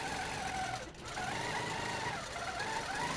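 Quilting sewing machine stitching free-motion feathers, a steady continuous mechanical whir with a brief dip partway through, close and moderately loud, with no talking.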